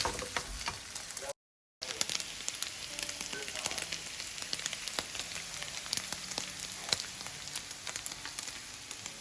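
Meat sizzling and frying in a pan, a steady dense crackle with scattered sharp pops, close and fairly quiet, with no talking.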